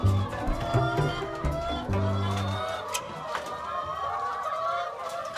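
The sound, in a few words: chickens clucking in the morning on a farm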